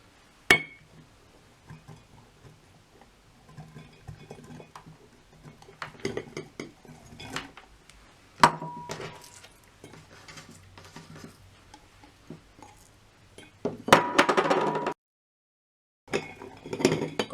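Chopped onions dropped into a glass jar for a fire cider tonic, giving scattered clinks and soft tumbling thuds in bursts, with a louder rattling pour near the end followed by a moment of silence.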